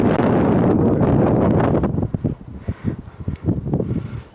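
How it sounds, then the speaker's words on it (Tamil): Strong wind gusts buffet the microphone on a mountain hilltop on a temple trek, a loud continuous roar for the first two seconds that then breaks into choppy, fluttering bursts. "காற்று நல்லா அடிக்குது."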